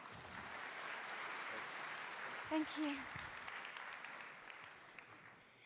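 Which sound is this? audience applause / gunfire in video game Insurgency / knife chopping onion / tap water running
audience applause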